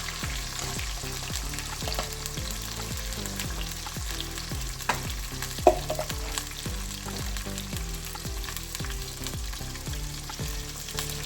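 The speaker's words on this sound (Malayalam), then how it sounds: "രണ്ട് സ്പൂൺ വെളിച്ചെണ്ണ വെച്ചിട്ടുണ്ട് അതിലേക്ക് കടുക് ജീരകം ഇട്ടിട്ടുണ്ട് അതിലേക്ക്" Shallots frying with mustard seeds and cumin in coconut oil, a loud continuous sizzle and crackle running throughout, with low rhythmic thumps repeating steadily underneath.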